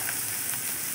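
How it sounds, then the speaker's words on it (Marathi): Fresh coriander leaves frying in hot oil in a pan, a loud, dense, continuous sizzle that holds steady and close for the whole short moment, with no voices. "सगळी कोथिंबीर तेलात टाकून द्यायची. तिला पण छान परतून घ्यायचं"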